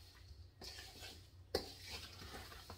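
A spoon stirring a peach cobbler mixture made with fresh Georgia peaches in a bowl, with faint scraping and a couple of soft clinks against the side, quiet and close.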